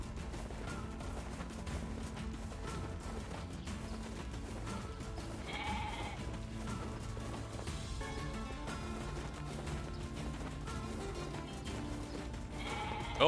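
A goat in the video game Nier Replicant lets out several bleats over continuous game music and effects, with no talking.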